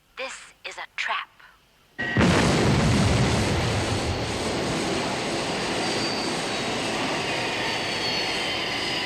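A plane's aircraft engine roars in as it comes down to land, loud and sustained after brief talk at the start, in a 1968 Thunderbirds production.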